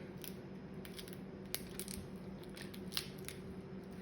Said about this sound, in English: you take your knife and you go in right here